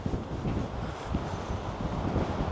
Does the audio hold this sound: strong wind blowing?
yes